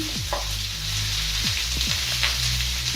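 Chopped white and red onions sizzle in a cooking pan, a dense, continuous frying hiss up close with a few soft clinks or stirring scrapes breaking through.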